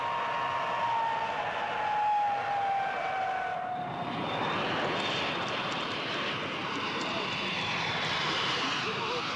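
A Comet jet airliner arriving after a flight from Munich and Athens, its engines a steady broad roar with a descending whine fading in the first seconds before the noise spreads wide and loud to the end.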